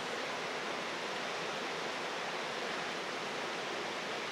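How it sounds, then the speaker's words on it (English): A waterfall cascade in a hemlock forest in Western Massachusetts, a steady broadband rush of falling water heard from a distance, unbroken and fairly quiet. "From here, we can now get a better sense of the scale of this cascade."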